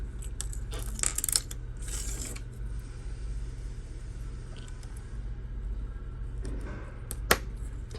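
A Honda Civic key fob's plastic case clicks shut during a battery change, a few sharp close clicks and snaps near the start and another crisp click later, over a low steady hum.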